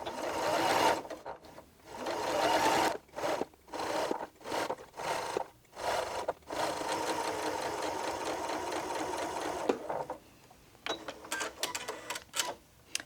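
A Janome Memory Craft 6700P sewing machine stitches a curved seam, its loud, steady mechanical whir running in bursts of differing length with short pauses between, close up and with no talk.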